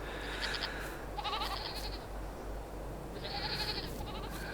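Goats on a Farming Simulator 22 farm bleat in a few separate calls, fairly faint over a low steady background hum, with pauses between each cry.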